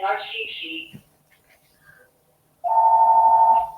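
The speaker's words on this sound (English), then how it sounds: "Excuse the phone, people. I have a house phone." A house phone rings once with a loud, steady electronic tone, following brief speech and a short quiet pause.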